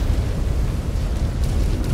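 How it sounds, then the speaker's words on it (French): A mech's exposed reactor explodes in the MechWarrior 5 video game, a loud rumbling blast with sustained low-end roar and crackling debris throughout, no voices. "Exposed reactor. Explosion imminent."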